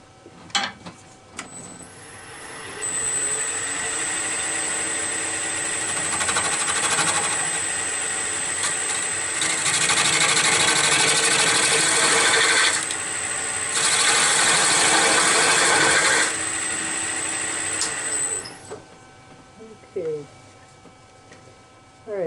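A power tool cuts into fairly soft maple being shaped into a baseball bat: a steady, loud grinding whine runs for about fifteen seconds, surging louder twice before cutting off.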